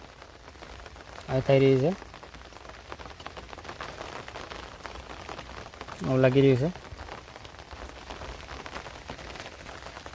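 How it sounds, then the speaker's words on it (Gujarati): Rain that has been falling since the previous evening patters steadily across farmland in Gujarat, a constant soft hiss under two short spoken phrases. "દોસ્તો તાવનો આવો વરસાદ કાલનો સાંજનો લગભગ 8 વાગે જેવું ચાલુ થઈ એટલે અત્યારે લગીન ચાલુ છે."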